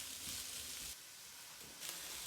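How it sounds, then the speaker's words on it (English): Chopped onion fries in a pan over medium heat for an easy quiche, giving a steady, soft sizzle that runs quietly throughout with no voices. "then fry the onion on a medium heat until golden"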